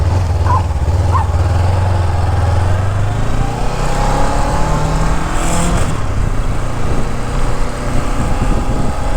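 Honda CB500X motorcycle fitted with a crash bar and top box, ridden in hot weather; a steady, continuous engine drone with wind rush fills the whole stretch, loud and close, with no talking.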